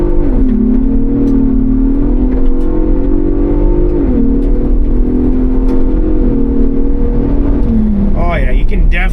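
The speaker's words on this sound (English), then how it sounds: "We're gonna tackle a little bit of acceleration on the gravel road." A Ford Bronco Raptor accelerates hard on a gravel road, its engine climbing through gears with a loud, close drone and brief dips at shifts, while people talk over it inside the cabin.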